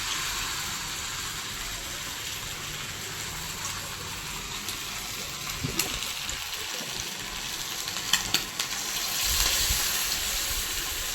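Chicken 65 pieces frying in very hot oil, a steady broad sizzling hiss throughout with a few faint knocks, swelling slightly near the end.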